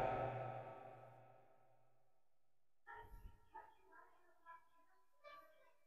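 Dog barks, a couple of short, fairly faint yips and woofs following a fading tone, with quiet gaps between them.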